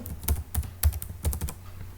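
Fingers type on a computer keyboard in quick, irregular bursts, with about eight or nine distinct close keystrokes clacking over roughly two seconds in a quiet room.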